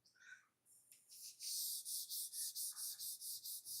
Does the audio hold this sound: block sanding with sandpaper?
yes